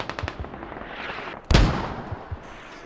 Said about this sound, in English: I'm not sure what the mortars are just landing on there for